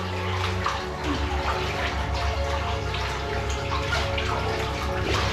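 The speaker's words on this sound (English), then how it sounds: "I'm literally up to my knees in water." Knee-deep wading through floodwater inside a flooded mine, a steady churning slosh and splash that carries on without a break, close and fairly loud, with no talk over it.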